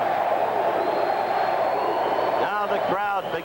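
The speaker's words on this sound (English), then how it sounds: "Now the crowd begins with the USA cheer" Crowd at the 1984 Los Angeles Olympic welterweight boxing bout, a loud steady roar of many voices that fills the clip, with someone commentator starting to talk over it near the end.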